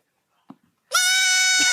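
A goat gives one loud, sustained, high-pitched scream up close. A short faint knock comes just before it, and the scream runs on without a break to the end.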